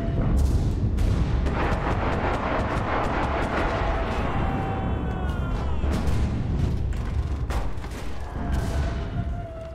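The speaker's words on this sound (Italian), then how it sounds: "Fai attenzione, ti sparano!" Rapid bursts of gunfire and heavy explosions from the tactical shooter game Enlisted fill the scene continuously, loud and dense, with a few short voice fragments underneath.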